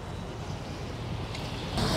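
A small tour boat moves across the water on a Halfeti excursion in Urfa, giving a steady, moderately loud motor and water wash with wind buffeting the microphone and a slight swell at the end.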